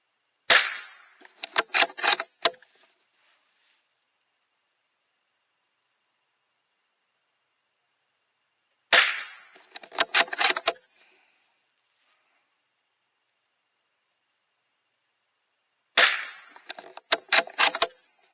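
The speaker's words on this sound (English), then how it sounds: "So let me go ahead and get 5 rounds on target 2." A CZ 457 Varmint Precision Trainer rifle fires a five-shot group outdoors, with three loud separate bursts of sharp cracks and quick echoing reports, each burst spaced several seconds apart with silence between.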